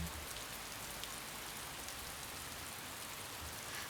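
Steady rain falling on a surface in the Piofiore video game, a constant even hiss of dense raindrops with no talk and no change in level throughout.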